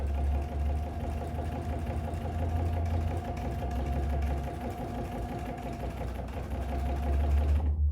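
Sewing machine stitching vinyl for a cross body bag runs continuously with a rapid, even mechanical chatter and hum, close and steady throughout before stopping at the very end.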